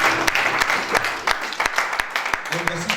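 A church congregation claps together during a French-language sermon on forgiveness, a dense, steady patter of many hands with sharper individual claps standing out, loud and close throughout.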